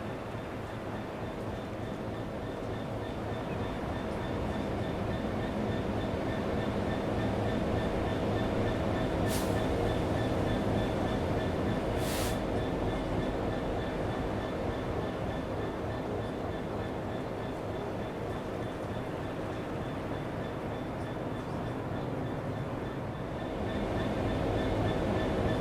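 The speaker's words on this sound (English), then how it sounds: "66712 passes through Strood light engine towards Tunbridge" Class 66 locomotive 66712 running light engine through Strood towards Tunbridge, a sustained droning engine rumble with rail noise, broken by two short sharp high squeals partway through.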